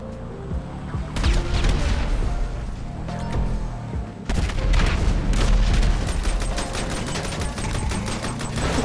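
Bomb and rocket explosions in GTA 5 during a Vehicle Vendetta match: loud booming blasts near the start and middle, followed by crackling debris and gunfire, with no clear talking over it.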